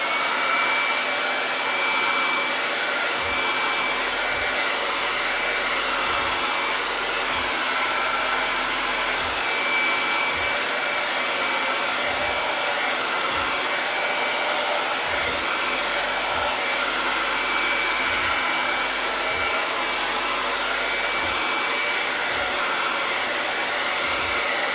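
Hair dryer drying chalk paste on a craft frame, a loud continuous whooshing blower hum running steadily and alone for the whole stretch, with a faint low rhythmic thumping underneath.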